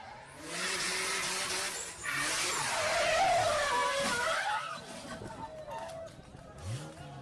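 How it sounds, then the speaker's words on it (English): Race car skidding with a long tire squeal as it spins, the screech rising and fading, followed by fainter engine and crowd noise in the distance. "Pete Barber looped that baby and smacked the wall hard."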